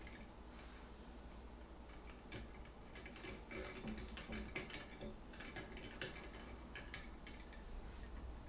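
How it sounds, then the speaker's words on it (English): A wrench screwing down a part during assembly of an Onefinity Elite Foreman CNC machine, giving a faint, steady run of ratcheting clicks and small metallic ticks over a low background hum, no voices. "use our wrench to go through and screw it down"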